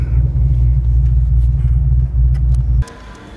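A car pulls in to park outside a motorsport wheels and tyres shop, a heavy low engine rumble idling steadily up close before cutting off abruptly near the end, leaving quieter ambient noise.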